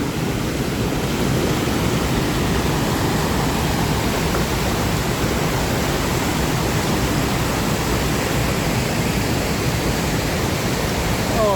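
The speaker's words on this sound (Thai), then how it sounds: "มาน้ำตกเหวสวัสด์" Haew Suwat waterfall in a Thai national park roars in a dense, constant rush of falling water, loud and unbroken for the whole stretch with no voices.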